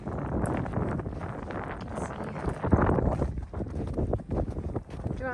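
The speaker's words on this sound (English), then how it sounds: "it is so windy out today" Heavy wind buffets the microphone in a constant low roar and rumble, with a faint voice briefly audible beneath the noise.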